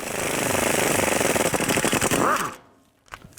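A power tool with an E12 socket hammers rapidly on the lower control arm bolts of a 2003-10 BMW X3 during a front ball joint job. The loud, steady rattling burst runs about two and a half seconds, then cuts off.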